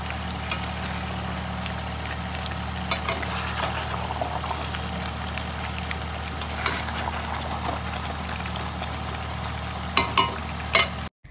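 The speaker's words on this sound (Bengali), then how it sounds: "আর এখানে দেখো এখন আমি বিরিয়ানির প্রিপারেশন করছি।" Mutton biryani frying in a pan as it is stirred: continuous sizzling with scattered scraping and clinking stirs throughout, a few louder knocks near the end, no talking.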